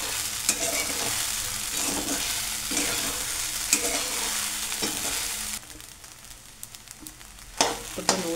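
Khichdi roasting in a pan while being stirred, a continuous sizzle with rhythmic scraping strokes of the spoon, easing into quieter scrapes and a few clinks near the end.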